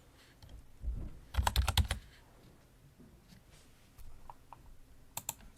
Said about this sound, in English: type in your preferred username